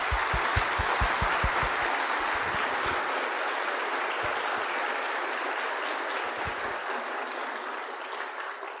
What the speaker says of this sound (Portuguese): Eu queria pedir uma salva de palmas para esse momento que a gente tem aqui.